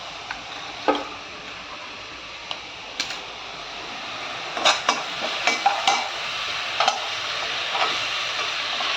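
Cut potatoes stir-fried in a pan, a low steady sizzle broken by sharp scattered clicks and scrapes of a utensil against the pan, close by.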